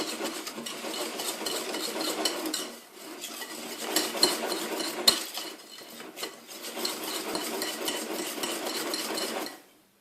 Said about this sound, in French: vous mélangez encore bien. Jusqu'à que ce soit vraiment bien homogène.